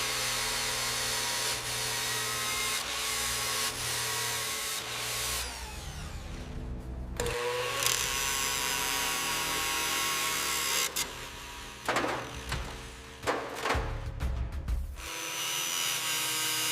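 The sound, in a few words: sanding rusted car body panel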